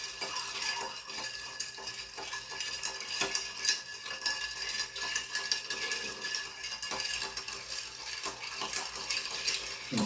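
A bar spoon stirs a Gibson cocktail over ice until chilled, giving a steady run of light metallic clinks and swirling rattles that carries on without pause.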